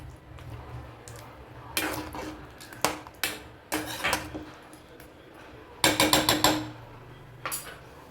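A metal lid is set onto a pot of dhaba-style chicken gravy, giving several close clanks and rattles, with a quick cluster of clinks as it settles, over quiet kitchen background.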